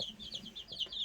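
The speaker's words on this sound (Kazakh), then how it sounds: "Анан тауық неге қырқылдап отыр?" A hen in a backyard coop with newly hatched chicks clucks repeatedly in short, close, moderately loud bursts, with no talking.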